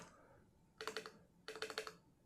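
Keys on a HATOR Icefall mechanical keyboard clicked in two quick bursts of about four or five sharp strokes each, close and crisp against a quiet room.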